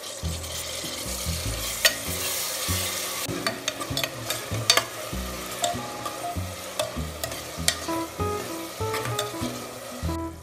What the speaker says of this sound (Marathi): हे टोमॅटो सुद्धा तेलात व्यवस्थितपणे परतवून घ्यायचे आहेत।